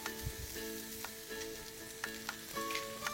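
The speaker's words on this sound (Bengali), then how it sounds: "একটু নাড়াচাড়া করে দেব হলুদ গুঁড়ো" Turmeric powder stirred into a frying base for Bengali chana dal, a continuous close sizzle with spoon scrapes and a few sharp clinks against the pot, with no voices.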